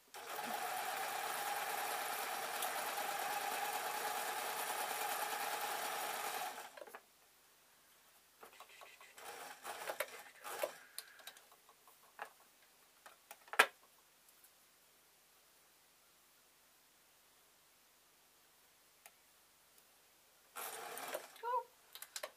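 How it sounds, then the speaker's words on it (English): A sewing machine stitching stretchy t-shirt material for a newborn's summer baby hat runs loud and steady for several seconds, then stops, followed by quieter handling clicks and a brief restart near the end. "I just let the machine do it, it's quite happy to sew this t-shirt material"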